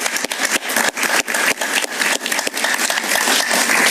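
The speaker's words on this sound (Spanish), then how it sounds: "Un aplauso para Carol Huber." A studio audience applauds guest Carol Huber on a television talk show, with dense, steady clapping at a fairly loud level throughout, without speech.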